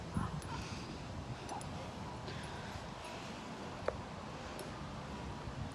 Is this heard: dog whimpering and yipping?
yes